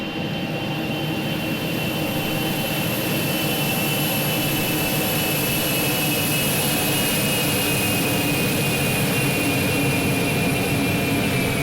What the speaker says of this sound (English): got my reversers going